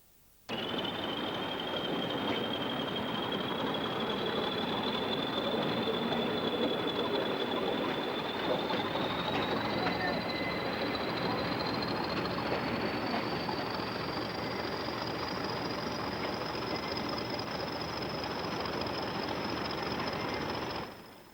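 A British Rail Class 20 diesel locomotive hauls a train past, its engine drone steady and loud throughout, with a high whine slowly rising in pitch.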